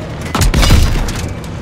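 A tank cannon fires in the World War II combat game Call of Duty WWII, a single loud, close boom with a sharp crack followed by a rumbling tail.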